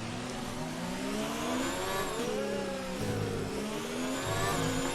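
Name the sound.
Ferrari Formula 1 car engine in F1 2019 video game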